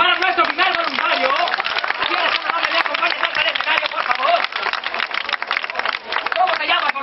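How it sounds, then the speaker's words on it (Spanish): Lively crowd applause and cheering for a volunteer at a live show, dense clapping mixed with shouting voices and chatter throughout. "¡Un fuerte aplauso para nuestro primer voluntario!"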